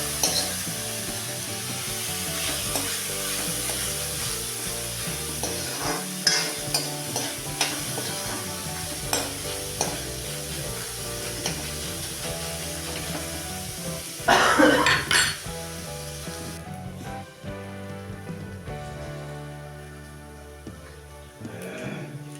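Coriander seeds and soaked chana dal sizzle in a hot pan as they are stirred, with a steady frying hiss and scattered scrapes and clinks of a utensil throughout, plus a louder clatter near the middle, and no speech.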